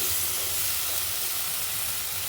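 Ground taro leaf paste fries in a pan as its water cooks off, giving a steady, even hiss and sizzle that stays close and unbroken, with no talking.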